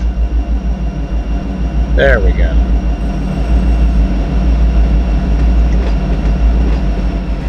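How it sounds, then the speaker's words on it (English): An Amtrak train passes in the Run8 train simulator game, a loud, steady rumble with rhythmic pulsing wheel noise and a brief horn-like tone, while a person talks over it. "And there's the Amtrak train."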